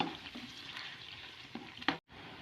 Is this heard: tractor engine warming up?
no